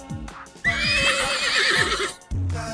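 A mare gives one loud, drawn-out whinny up close, bracketed by a few brief snorts and low huffs before and after.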